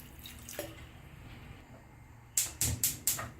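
Four quick splashy pours of water land in a metal pressure cooker in close succession near the end, after a quiet stretch with faint background noise.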